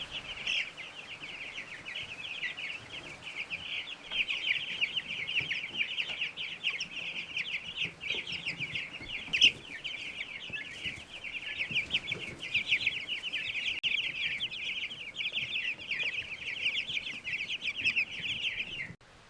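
Many chickens cluck and chatter continuously, a dense busy flock sound held steady throughout, with occasional louder squawks standing out.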